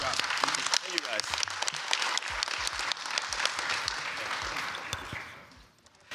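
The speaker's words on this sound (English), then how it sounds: "I'll give another round of applause for my man Adamola." Audience applause at a spring student showcase, a dense, loud wash of clapping across the whole stretch with voices and cheers mixed in, tapering off near the end.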